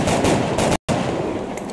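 Rapid bursts of gunfire from soldiers shooting in the XCOM: Enemy Within video game, loud and dense throughout, broken by a very short silent gap partway through.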